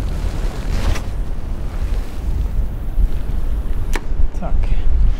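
Steady wind buffets the microphone beside open water on the sea coast during sea trout fishing, with a constant low rush and a few faint knocks.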